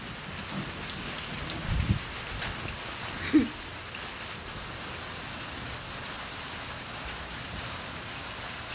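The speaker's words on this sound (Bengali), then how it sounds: "দুপুর 2:30 বাজে বৃষ্টি নেমে গেছে, বৃষ্টি ডাক শুনেন" Steady rain pours down in a continuous broadband hiss, with a couple of faint knocks in the background.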